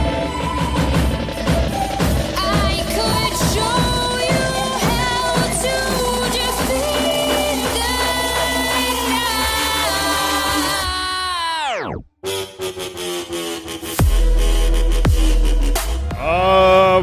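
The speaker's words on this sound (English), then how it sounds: "what you're hearing is like the outstanding music that you could hear blasting right in front of the Kronos" Loud orchestral theme-park music blasts in front of the Kronos in Epic Universe, rich and sustained, then sweeps down into a brief near-silent break before swelling again with a deep rumble.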